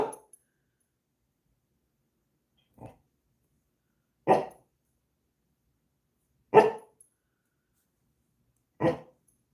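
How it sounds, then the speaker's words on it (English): A dog barks four or five times, each bark a single sharp burst separated by long gaps of silence, fairly close and moderately loud. "With my dog barking, it just is confirmation for sure"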